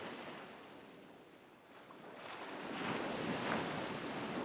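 Ocean waves wash onto a beach in a steady, even surf that swells louder toward the end, with a faint breeze in the background and no voices.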